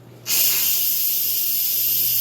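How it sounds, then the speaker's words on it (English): Steam hisses loudly and steadily from an Instant Pot's pressure release valve set to vent, a sudden broadband rush that starts abruptly and holds constant with no talking. "So I'm going to carefully set this to vent. You'll hear it hiss."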